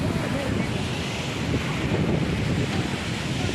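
Sea waves roll onto Porbandar Chowpatty beach, a steady, loud wash of surf blended with strong wind buffeting close by, continuous with no pauses or voices.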